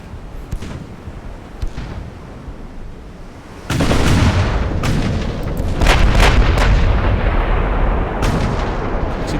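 Naval guns fire during a battle in the Ultimate Admiral Dreadnoughts video game, starting with distant thuds and then breaking into loud, sustained rumbling blasts with repeated heavy booms layered over one another.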